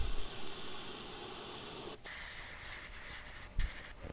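An airbrush hisses steadily while spraying a second coat of paint onto a crankbait fishing lure, a close continuous spray with a brief pause and short bursts after.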